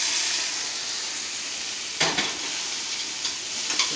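Onions sizzle steadily in a hot pan, a loud constant frying hiss broken by a few scraping stirs from a utensil near the end.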